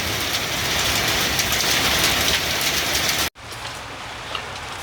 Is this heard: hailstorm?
yes